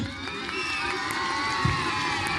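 A school audience at a mimicry show, with crowd noise and cheering sustained for a couple of seconds, a dense wash of many voices with a brief thump near the end.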